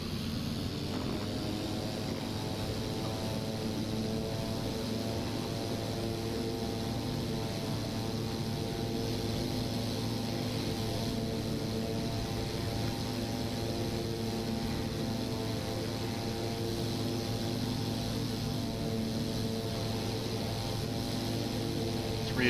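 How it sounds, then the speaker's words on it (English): A WWI aircraft engine roars steadily at takeoff in the flight game Wings Over Flanders Fields, a continuous droning propeller hum held at full power for the whole stretch, close and unbroken, no voices. "everybody agreed that the engine is run up."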